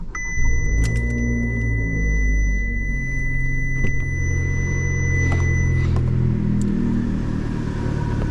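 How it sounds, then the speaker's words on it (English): A 2015 Fiat 500 Abarth engine fires up inside a parking garage, settling into a deep, loud exhaust rumble that echoes off the walls, with a steady electronic chime tone sounding over it. "I'm gonna start the car up right now."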